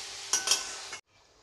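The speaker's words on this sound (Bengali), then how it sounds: "পোস্তটা দিয়ে এবার আমি আরেকটু জল দেবো।" Water is poured into poppy seed paste cooking in a pan for a Bengali rui posto fish curry, giving a close hissing, stirring sizzle with two brief bursts before it cuts off abruptly into quiet.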